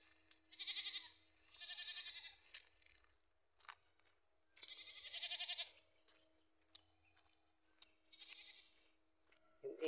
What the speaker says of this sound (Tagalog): Yan po yung mga kambing.